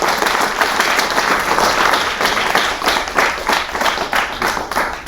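Audience applause closing a talk on a programming language for public algorithms: a full room clapping continuously and briskly, loud and close, with no voices over it.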